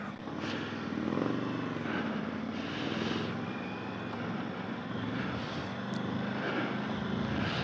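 An Indian Chief motorcycle with a 116 engine and performance cams pulls out, its low throaty engine rumble swelling and easing with throttle blips, fairly close, with no talk.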